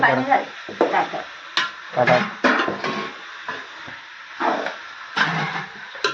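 Chicken sizzles in a pot on a wood-fired stove while a utensil stirs and scrapes in irregular bursts, fairly close, with quiet gaps between the louder clatters.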